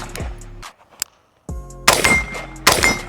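AR-15 rifle firing M193 ammunition, two sharp, loud close-range reports after a few softer thumps and knocks, with short quiet gaps between.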